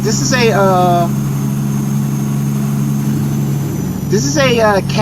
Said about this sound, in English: C15 engine,